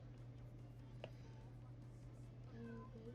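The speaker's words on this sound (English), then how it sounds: "I heard a cat" A cat lets out a faint, short meow near the end, over a steady low electrical hum in an otherwise quiet room.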